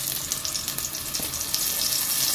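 Eggplant slices frying in a hot pan, a steady loud hissing sizzle with faint crackles throughout, close up.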